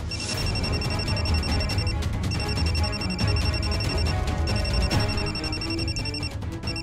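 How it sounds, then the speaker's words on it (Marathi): A phone rings with a repeated electronic tone in bursts separated by short pauses, loud and close, with muffled background noise underneath. "ताईडीचा फोन"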